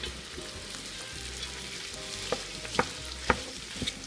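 Cabbage sizzles in a hot pan with a steady frying hiss, punctuated by a few sharp clinks and scrapes as it is tossed, close and fairly quiet with no talking.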